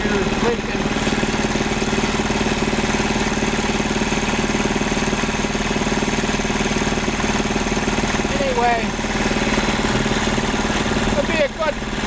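A 1939 Lauson RSM 1hp air-cooled inboard marine engine with a leaking carburetor runs steadily close by, its continuous mid-pitched engine drone going on the whole time while someone talks over it.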